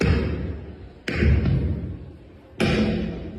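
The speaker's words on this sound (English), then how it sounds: "the audience surround listening to the sound of butter being smacked by the microphone" Two heavy, soft smacks of a microphone hitting butter land about a second and a half apart, each a dull thud with a muffled ring after it.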